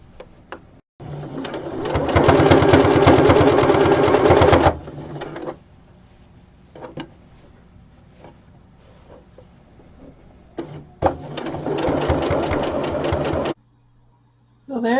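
A sewing machine stitches down the seam of a knitted toque in two loud, steady bursts of rapid needle chatter, with quiet handling noises and short pauses between runs.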